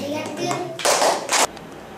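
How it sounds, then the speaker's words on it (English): Children at a children's village sing a clapping song, then clap their hands in two sharp, loud bursts close by, with singing voices before them. "If you're happy and you know it, clap your hands."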